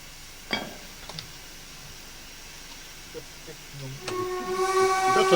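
A BLS D6515 locomotive in Train Sim 2022 sounds a steam-style whistle that rises near the end with a hissing tone. It follows a quiet stretch with faint clicks and is loud and close.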